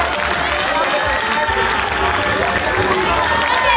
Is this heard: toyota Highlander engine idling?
no